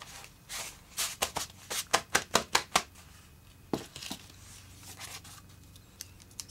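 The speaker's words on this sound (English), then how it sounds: "I need to cut this page off though." Scissors cutting a page out of a magazine for a collage, giving a run of sharp, close snips in quick rhythm followed by a few scattered paper rustles.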